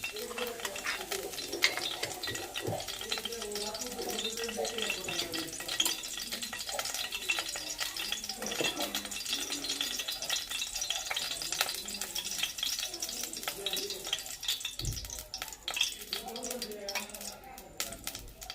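Oil heats in a pan with peanuts for stuffed brinjal, giving a continuous soft crackle and sizzle, with scattered clinks of a utensil against the pan throughout.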